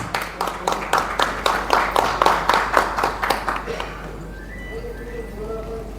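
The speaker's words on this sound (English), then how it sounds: "Can we expect a round, a little louder claps" An audience claps in a brisk, even rhythm at the V Square Green Bio Expo 2023 inauguration. The sharp, regular claps fade out after about three and a half seconds into quieter room sound with voices.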